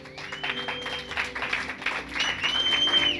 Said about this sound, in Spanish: Yo que tú le daría un fuerte aplauso